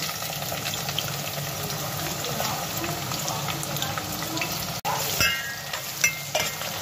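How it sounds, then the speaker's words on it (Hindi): Onions frying in hot oil in a pan give a steady, dense sizzle throughout, close and fairly loud, with a brief dip and a few stirring clinks toward the end. "प्याज को थोड़ा फ्राई कर लेंगे।"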